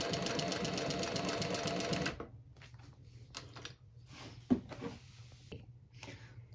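A Bridgesew 4420 double needle walking foot sewing machine runs loud and steady for about two seconds, then stops, leaving quieter mechanical clicks and handling noises with one sharp knock near the end.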